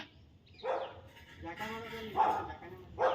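A dog whimpers and yips in a few short bursts close by, with soft background sounds between.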